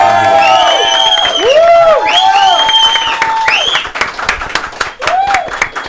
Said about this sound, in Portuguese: Eu queria uma salva de palmas pro nosso convidado